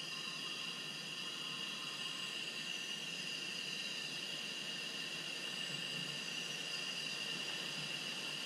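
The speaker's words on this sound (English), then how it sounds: "I'm hearing air leaking from somewhere, or is it going through the motor?" Steady broadband hiss of air escaping from a diesel truck's turbo boost system, continuous and fairly faint, with no talking over it.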